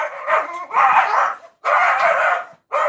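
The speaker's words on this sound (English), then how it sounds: "And they bark and they're little corgis." Small corgi dogs bark in loud, close bursts, three quick rough barks in a row with short gaps and no talk over them.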